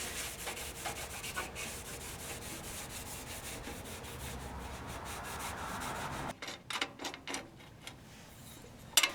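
Wax being rubbed onto a Shopsmith bandsaw table, a steady close hand-rubbing and wiping sound that runs for several seconds, then breaks into short separate strokes and light taps near the end.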